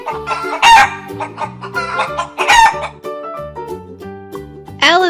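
A chicken clucks in short repeated bursts and then breaks into a loud rooster crow, each call standing alone and close.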